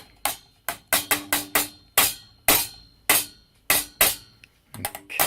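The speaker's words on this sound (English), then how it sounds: "I'm going to use a potato masher to just try and get the stones as loosened off as possible" A potato masher pressing soft plums in a pan, giving sharp metallic clinks and thuds in an uneven rhythm, about a dozen close, crisp strikes.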